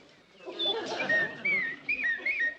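A man whistles an imitation of a blue-tailed mountain warbler, a run of short, sliding warbled notes repeated in quick bursts, close and fairly loud.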